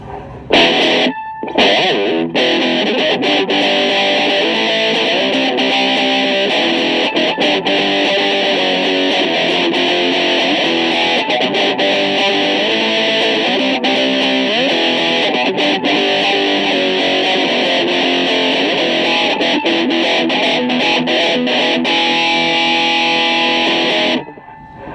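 A heavily distorted Spanish-style cigar box guitar plays a gritty, sustained riff, crunchy and loud throughout with no voices.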